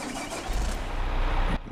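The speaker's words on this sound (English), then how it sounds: "I'll be quiet so you guys can actually hear the engine" A vehicle engine in Farming Simulator cranks and then runs with a steady, loud mechanical rumble, close up, cutting off abruptly at the end.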